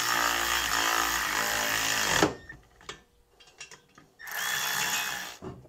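Power tool running on a 2024 Silverado gooseneck hitch install, a loud sustained whir for about two seconds, then scattered clicks and clanks, then a second burst of whirring.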